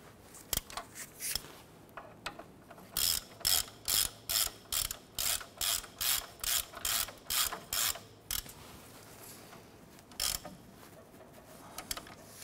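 Close, quiet clicking of a ratchet snugging down bolts on a 1993-1997 Ford Ranger front suspension, a quick run of about a dozen evenly spaced strokes with a few scattered clicks before and after.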